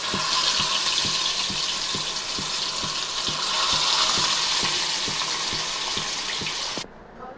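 Hot oil sizzling steadily in a pan on a stove for Nellore-style fish fry, a loud, continuous frying hiss with faint regular clicks underneath, cutting out abruptly near the end.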